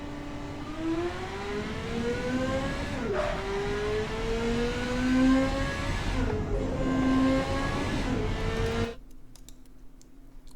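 A 1998 Marina car with a 90s-tech engine races around Laguna Seca in the Automation video game. Its engine note climbs steadily through the gears, dipping at each shift, loud and alone before cutting off abruptly near the end.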